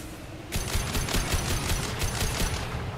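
Rapid bursts of video game gunfire from Mass Effect 2 rattle in quick rhythmic volleys after a brief quieter lead-in, loud and close, with no talk over them.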